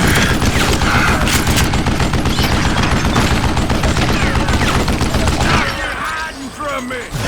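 Dense gunfire in the Western shooter Call of Juarez Gunslinger, a loud continuous volley of overlapping shots and clatter that thins out near the end, where a voice speaks.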